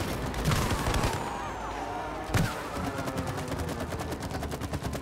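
Gunfire rattles through It Takes Two gameplay, with scattered shots and then a dense, rapid burst of machine-gun-like fire in the second half, loud and near, under excited player voices.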